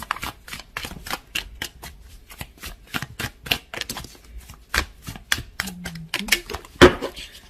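Tarot cards shuffled quickly by hand give a rapid run of crisp flicking and riffling snaps, close and fairly loud, with a brief tonal knock near the end and no speech.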